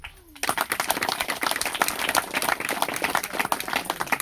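Loud, dense applause from a crowd at a village religious gathering, cheering for border soldiers and farmers, bursting in after a brief quiet start and continuing steadily with rapid overlapping claps.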